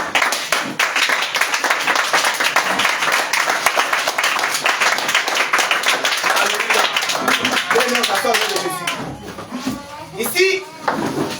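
Church congregation applauding during an evening thanksgiving service, a dense steady clapping that runs for most of the stretch before thinning out, with voices mixed in near the end.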